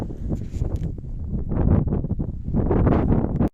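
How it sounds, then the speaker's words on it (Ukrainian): Gusty wind buffeting a microphone in an open farm field where houses once stood, a continuous low rumbling roar that swells and dips throughout, with brief rustling bursts and no talk. "Вибачаю зразу за вітер, ніяк не можна сховатись від нього."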